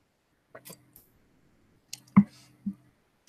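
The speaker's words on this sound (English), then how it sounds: "let me take a sip of water here" A person pauses mid-talk to sip water, giving soft, close, wet swallowing and lip sounds in a few brief bursts with quiet gaps between.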